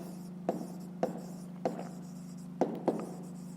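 A pen writes on paper in a quiet room during a fifth-grade maths exercise, with five short scratchy strokes spaced irregularly over a low steady hum.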